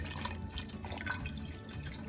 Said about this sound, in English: I'm also going to add a little bit of water,